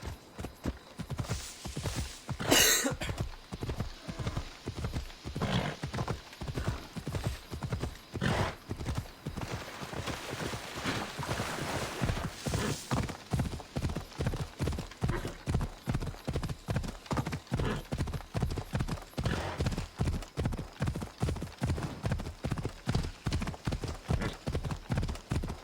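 Horse hooves clip-clop steadily in Assassin's Creed Odyssey, close and rhythmic, quickening to a faster gait partway through, with a brief whinny near the start.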